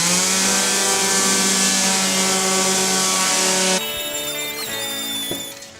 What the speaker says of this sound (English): A bit of hand planing and then some sanding.